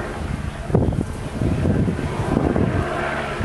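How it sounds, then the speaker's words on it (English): Blustery wind buffets the microphone in rough, uneven gusts, with a distant low engine drone underneath. "And it's windy."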